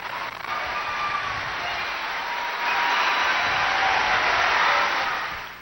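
A crowd of about 3,500 people gives an ovation for Pope Benedict XVI, a broad, continuous roar of clapping and cheering that swells louder in its second half before tapering at the end.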